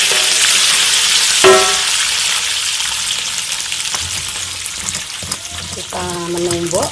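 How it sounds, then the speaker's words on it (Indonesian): Peanuts fry in oil while being stirred, a steady close sizzle marked by a few sharp metallic scrapes and a rising squeak of the spatula against the pan. "Kita tumbuk sambil mengaduk kacang biar tidak gosong."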